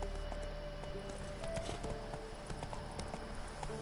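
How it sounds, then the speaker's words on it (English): A horse's hooves clip-clopping at a steady trot in the video game The Witcher 3, an even run of soft thuds over a constant ambient game bed, with no speech. "Whoa there, Roach"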